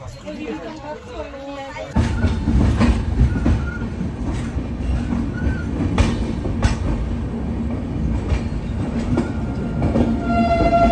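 A train rumbles steadily along the rails with rhythmic clicks, heard from inside a carriage under passengers' chatter.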